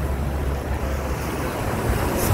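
Ocean surf at Condado beach in Puerto Rico, a constant loud wash of waves with wind buffeting the microphone, building slightly toward the end.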